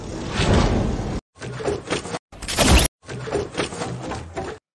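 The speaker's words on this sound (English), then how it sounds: "Let's take this one, the wood building sound." Several short bursts of crunchy, clattering wood-building noise from the video game Fortnite, each cut off abruptly with brief silences between them.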